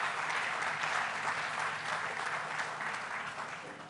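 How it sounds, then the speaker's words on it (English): Applause from a festival audience at the Tribeca Festival, a thick steady clatter of many hands that gradually tapers off over a few seconds. "Let's give a big round of applause to the entire Tribeca team"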